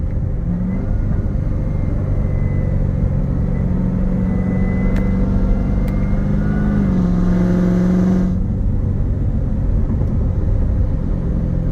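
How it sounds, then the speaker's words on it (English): A 2019 Chevrolet Corvette Z06 3LZ, a performance-modified road car, on a test drive, its engine giving a steady loud low rumble with a mild rise in revs and a brief lift near the end, heard from inside the cabin. "Car sounds absolutely gorgeous."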